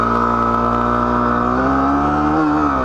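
A Tornado XR 250 motorcycle accelerates hard in first gear, its engine note loud and close, a steady harmonic drone climbing slightly in pitch before easing off near the end.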